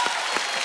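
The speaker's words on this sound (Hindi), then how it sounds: "इसके लिए पहले तालियां होनी चाहिए" Studio audience applause on a Kapil Sharma comedy talk show, a steady wash of many hands clapping close and fairly loud, with a few sharper bursts, no voices on top.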